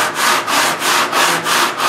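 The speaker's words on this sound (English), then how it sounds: "I'll sand for a while, and then I just shift the guitar a little bit to the left so that I'm using just clean portions of the sandpaper." Sandpaper scrapes against the wooden rim of a steel-string guitar in loud, close, rhythmic back-and-forth strokes, about six even passes of coarse rubbing.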